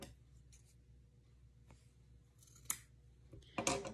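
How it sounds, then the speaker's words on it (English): Scissors snip through a folded strip of fabric while making a white gnome kit, with a couple of soft early cuts and then a sharper, louder crunching cut near the end, close and otherwise quiet. "fold it in half and then cut it in half"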